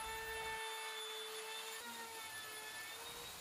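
Handheld router with a bottom bearing bit cutting a plywood wardrobe side along a template, a loud steady high whine with a harsh cutting roar, changing slightly in pitch midway, close and continuous.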